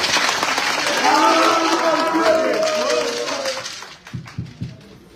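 Applause and cheering from an audience at a gathering honouring Osun kings in Yorubaland, dense and sustained for about four seconds before thinning out into a few scattered final claps.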